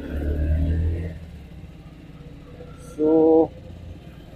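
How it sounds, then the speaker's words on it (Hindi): A Yamaha FZ-X motorcycle engine gives one short, deep rev nearby, then drops back to a quiet idle before a brief spoken word. "थोड़ा खींचते हैं, उसकी आवाज़ अच्छी कर रहा है।"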